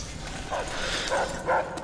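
Barks from a dog in the ACER Springtrap game, three short yelps spaced about half a second apart, moderately loud over a steady noisy game background.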